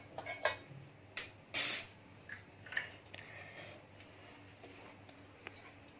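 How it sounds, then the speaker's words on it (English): Bowls and utensils clink in a home kitchen while paneer fry is being prepared, a few sharp isolated knocks and clatters against quiet background. "Now let's take a bowl."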